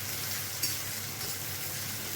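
Rajma masala frying in a pan, a steady, faint hiss and sizzle continuing evenly without pause, with one small clink partway through and no talking.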